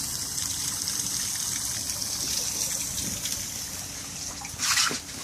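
A full-hose-thick stream of siphoned water pours from a hose onto the ground, a steady close rushing splash that briefly surges near the end, with no talking.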